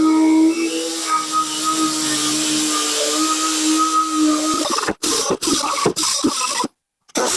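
A power tool grinds and cuts into a truck's fender opening to enlarge it for an aftermarket fender, giving a steady high whine with a few brief breaks near the end.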